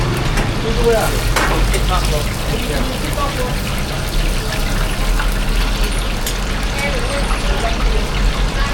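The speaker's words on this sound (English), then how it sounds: "So they're deep frying the chicken methodically." Chicken deep fries in a pan at a Hanoi street food stall, a steady, dense sizzle and crackle mixed with busy street bustle and voices nearby.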